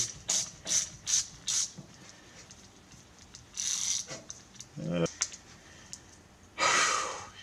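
A ratchet wrench tightens bolts on a 1968 Corvair, with short, rapid clicking bursts at the start, then scattered mechanical handling noises and a breathy sound, all close and fairly quiet.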